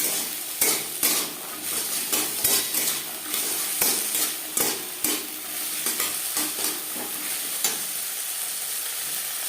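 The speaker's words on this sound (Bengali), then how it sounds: "এক দু মিনিট মটরশুঁটি নাড়াচাড়া করে নেওয়ার পর দিয়ে দেব আদা বাটা কাঁচা লঙ্কা বাটা" Green peas stirred in a frying pan with ginger paste and green chili paste, sizzling steadily while a spoon scrapes and knocks against the pan in irregular strokes, close and fairly loud.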